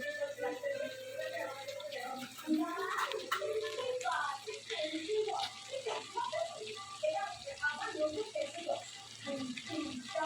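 Water poured into a pan of chicken curry with potatoes, a steady running splash under intermittent nearby voices throughout.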